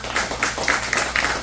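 Audience at a university debate event applauding, a steady run of near, rhythmic clapping bursts filling the short moment.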